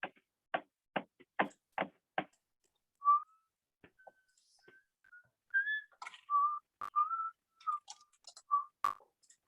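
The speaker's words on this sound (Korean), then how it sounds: "휘파람 불지 마세요" A student whistles during an online class: after a run of quick, faint clicks, a thin, wavering whistled tune plays in short broken phrases, quiet and close to the microphone.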